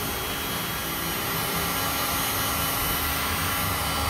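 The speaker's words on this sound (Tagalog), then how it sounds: "Ngayon ay i-blower natin para mas mabilis matuyo." Steady, loud air blower roaring continuously as it dries a freshly cleaned 55-inch Visole smart TV circuit board, a broadband whoosh with a low hum underneath and no talking.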